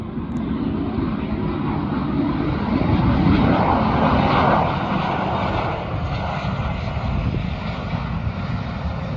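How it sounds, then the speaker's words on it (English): A private jet passes on approach to land at a county airport runway, its engine a loud, steady broadband roar that swells slightly in the middle and holds without pause, heard alone. "That's a private jet."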